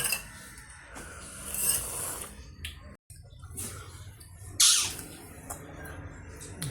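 A pet parrot at home lets out a few sharp, shrill squawks in short bursts, one of them loud and close, over a low background of household rustling and scraping.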